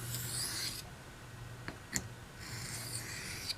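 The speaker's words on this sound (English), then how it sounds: "I'm going to go to this soft Arkansas, and I'm going to use alternating strokes, light alternating strokes" A knife is honed on a soft Arkansas stone with light alternating strokes, a soft close hiss of steel on stone in two separated bursts with faint ticks between them.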